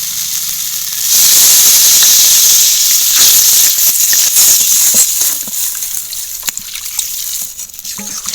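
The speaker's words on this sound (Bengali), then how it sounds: "এবার আমি পরিমাণ মতো জল দিয়ে দেবো" Water poured into a hot pan of oil-fried potatoes for a Bengali soybean curry sets off a sudden loud, steady hiss and sputter of steam. Irregular crackles and bubbling continue throughout.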